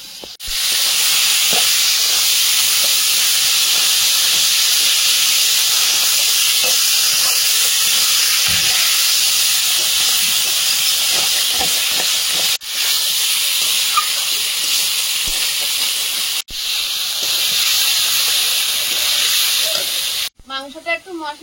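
Chicken pieces dropped into hot spiced oil release a loud, continuous steamy hiss that holds steady for about twenty seconds, broken by a couple of brief dips and a clattering stir near the end.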